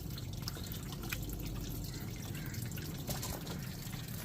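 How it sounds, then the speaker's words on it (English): Water trickling and dripping as drinking tumblers are rinsed, a faint steady wash of splashing with occasional small drips over low background hum. "I'm going to give these another rinse and then get these onto the cart."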